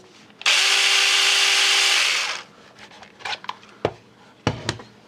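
A repaired cordless electric chainsaw with a rebuilt battery whirs loudly at a steady pitch for about two seconds, then winds down, followed by a few sharp handling clicks and knocks.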